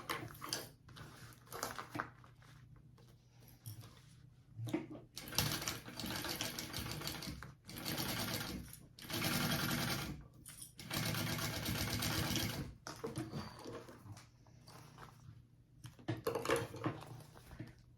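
A sewing machine basting fabric onto the exterior piece of a phone sling bag runs in several sustained bursts of fast, steady stitching whir, separated by brief pauses, close-up and fairly loud with no talk.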